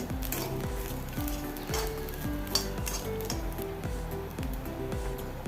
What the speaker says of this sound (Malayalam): നല്ലപോലെ ഇളക്കി കൊടുക്കാം ഗ്യാസ് ഫുൾ ഫ്ലെയിമിൽ തന്നെയാണ് വെച്ചിട്ടുള്ളത്